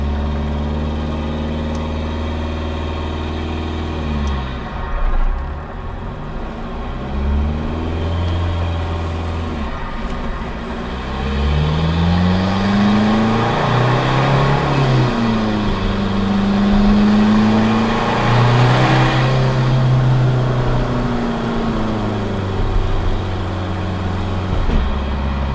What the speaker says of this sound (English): it's still gonna rev hang immediately when I take it out of gear here